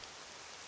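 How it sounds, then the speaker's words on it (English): Rain falls as a steady soft hiss of dense drops in Dragon Quest VII Reimagined, faint and even across a brief moment with no voices. "Truly, it is raining at long last."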